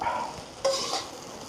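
Egg noodles are stirred in a hot pan for street-style fast food, a soft scraping stir over a steady low sizzle, with one sharper clatter partway through and no voices.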